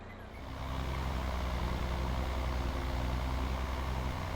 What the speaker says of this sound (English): I think this is the perfect tractor for this job.